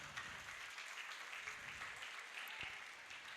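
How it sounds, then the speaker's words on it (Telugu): A school annual day audience applauds with a steady, even wash of clapping from many hands, heard faint and distant throughout. "క్లాప్స్ అండి"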